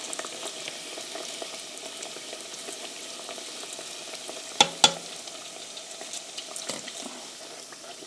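Doughnuts fry three at a time in hot oil, giving a steady close crackling sizzle with a couple of sharp pops midway, no voices.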